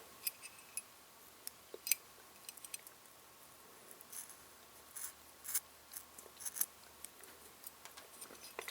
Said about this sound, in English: I want to take a small piece of scissors and I'm going to cut